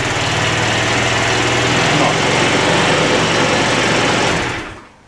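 A cold Kymco Agility MMC 50 scooter engine runs at a loud, steady, high-pitched buzz close by, then dies away near the end.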